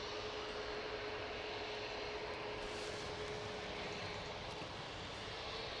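A Ryanair jet taking off from Manchester Airport for Palma, a dense, continuous roar at steady strength over the whole stretch, with a thin steady whine threaded through it.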